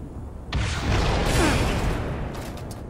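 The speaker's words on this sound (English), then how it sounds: "Shoot the rocket on the ground." A rocket fired at the ground in a Halo shooter game goes off with a sudden loud boom, then a rumbling, hissing blast that lingers and slowly fades.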